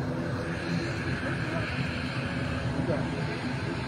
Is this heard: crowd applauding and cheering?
no